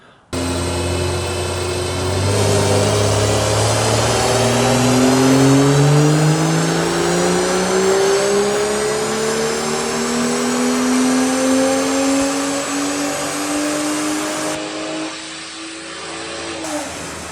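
A Stage 2 tuned car revs on a dyno. The engine climbs loudly and steadily through a long continuous pull, its pitch rising, then drops off sharply near the end.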